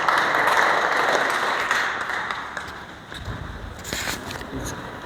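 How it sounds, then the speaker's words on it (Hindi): Applause at a workplace Safety Day program swells loudly at the start, fades after a few seconds, then gives way to scattered clapping and background noise. "उनके लिए जोरदार तालियां बजाएं"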